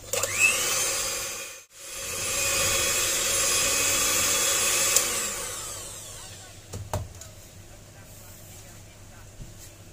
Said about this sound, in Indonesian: selanjutnya kita akan mixer sekitar 1 menit